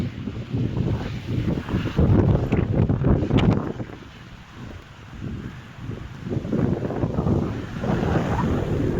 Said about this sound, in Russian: Да, прям уж здесь насквозь продирает ветер.